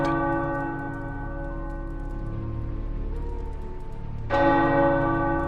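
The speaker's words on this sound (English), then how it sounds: "The tower bells are ringing." Church tower bells ring out in Marvel Midnight Suns, a sustained, resonant peal with layered ringing tones that swells again with a fresh loud strike near the end, no voices over it.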